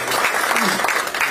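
Audience applause at a political rally, a brief burst of dense, loud clapping from a crowd, with a voice faintly audible beneath it.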